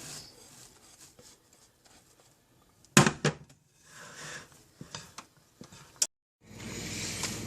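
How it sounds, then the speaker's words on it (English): Oatmeal cookie batter is mixed by hand with soft scraping and rubbing strokes, faint at first, then a few sharp knocks and louder stirring bursts, ending in a steady rustling swirl. "I'm just going to have to go with the hand mixing here"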